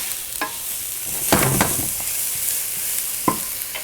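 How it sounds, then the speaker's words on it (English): Onion sizzles steadily in hot oil, a constant crackling hiss with a few louder clatters from stirring. "You can hear that sizzle."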